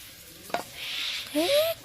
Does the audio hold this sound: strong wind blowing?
no